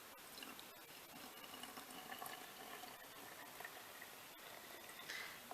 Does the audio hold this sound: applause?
no